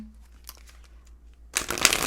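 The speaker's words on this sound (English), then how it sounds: "So we are shuffling to clarify the Queen of Wands and the Six of Pentacles" Tarot cards shuffled by hand, a quiet riffle at first and then a louder burst of dense, crisp card rustling near the end.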